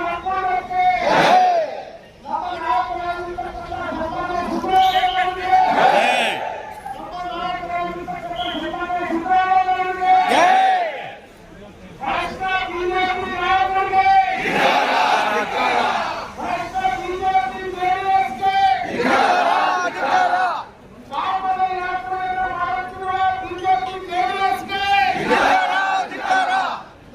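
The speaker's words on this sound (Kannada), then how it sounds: "ಹರ್ಷೋದ್ಗಾರ" Protest crowd of an AHINDA federation rally in Vijayanagara district shouting slogans in unison, rhythmic chanted bursts with cheering, loud and close, repeated cries separated by brief pauses.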